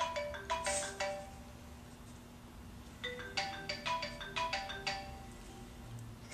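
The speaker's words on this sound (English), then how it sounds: "I think my phone's going off" A mobile phone ringtone plays in two bursts of quick bright tonal notes, each a rising melodic phrase, the second starting after a short pause, heard close and fairly loud over a faint steady hum.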